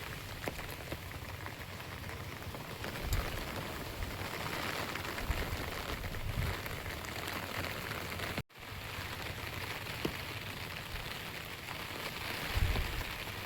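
Steady rain driven by gusting wind pours down with a broad hiss, occasional louder gusts swelling through, and a brief dropout midway.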